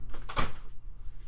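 An indoor door is pulled shut with a single close, firm thud and a brief rattle, followed by quiet room tone.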